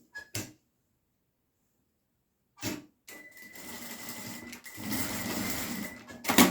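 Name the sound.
sewing machine stitching the side seam of a surgical cap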